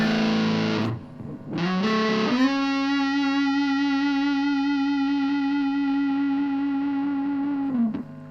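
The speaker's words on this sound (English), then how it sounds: "So let's try the Big Muff pie." Electric guitar through a Big Muff Pi fuzz pedal: thick, distorted notes with heavy sustain, a couple of short chopped strums then one long held note ringing out close and loud for several seconds.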